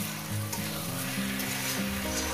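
Chicken pieces for a home-style curry fry steadily in a small amount of oil, a continuous close sizzle with low bubbling hum underneath and no voices.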